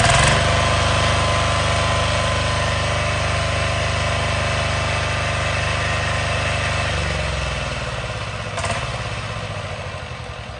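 A small Kubota-style single-cylinder engine, hand-crank started with a decompression valve on top, chugs loudly and steadily at idle up close, then slows and winds down, followed by a faint click.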